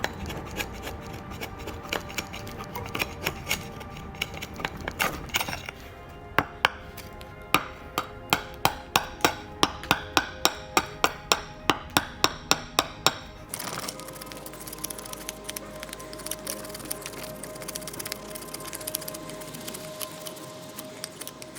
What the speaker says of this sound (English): it was slicing wood, guys, like any good bushcrafting knife you would expect to do.